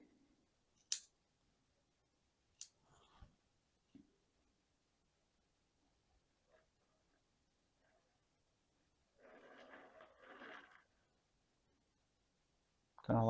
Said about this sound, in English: Cut some of these back.